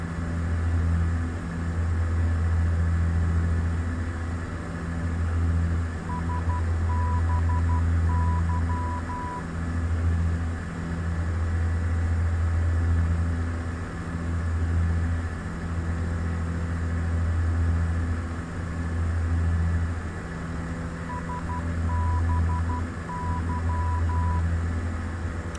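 A cockpit warning in Microsoft Flight Simulator 2004 repeats in bursts of rapid electronic beeps, riding over a steady, loud engine drone that fills the whole stretch.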